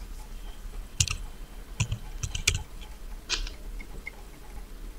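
Typing on a computer keyboard with a handful of sharp, separate key clicks and taps spaced irregularly over a few seconds, close and fairly quiet against a low background hum, no speech.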